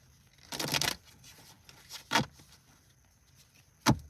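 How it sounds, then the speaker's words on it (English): A few brief bursts of tarot cards being riffled and shuffled, close by, with quiet pauses between them. "I'm gonna shuffle one more time."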